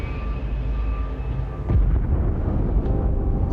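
Explosion in the survival video game Last Day on Earth: a sudden deep boom at about the midpoint breaks over a steady rumbling game background, and the heavy low roar carries on to the end.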